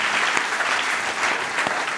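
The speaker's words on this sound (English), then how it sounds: "just the debaters, please, a round of applause one more time" Sustained audience applause for the debaters at the close of a panel debate on cancel culture, dense steady clapping from a crowd at even loudness throughout, with no talk over it.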